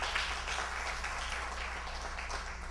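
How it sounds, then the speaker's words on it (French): An audience claps at a celebration of Haitian literary achievements in New York, a brief, fairly faint burst of applause. "Applaudissons cet événement."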